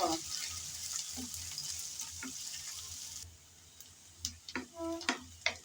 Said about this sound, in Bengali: গরম তেলে দিয়ে দিলাম পেঁয়াজ কুচি হালকা করে নেড়ে চেড়ে ভেজে নেব